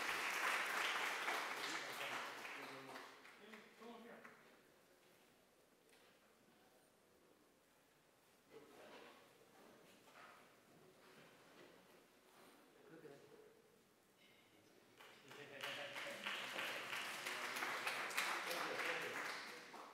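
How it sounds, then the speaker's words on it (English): An audience at a Drupal web community conference session claps for people called up after asking questions. The applause is moderately loud at first, fades to faint scattered claps with some voices, then swells again near the end. "Claps for my friends."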